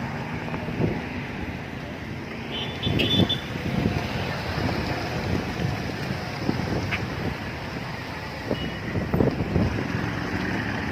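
Strong wind buffeting a microphone on the Nile corniche at Faraskur, Damietta, during heavy rain, a continuous roaring rush with gusty surges throughout, close and loud.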